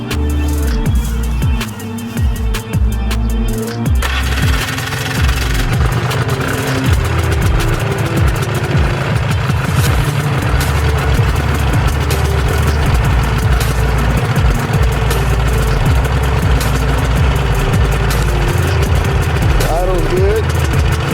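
A 2005 Polaris Trail Blazer quad's engine idles steadily and loudly throughout, a continuous low rumble with a slight rise in revs at the start, while someone talks over it outdoors.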